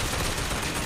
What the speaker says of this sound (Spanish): ¿Pero por qué me dispara ese bicho?